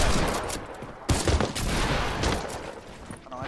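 Rapid bursts of gunfire from a Fortnite match rattle in a dense, continuous fusillade with overlapping shots and short gaps, loud and close throughout.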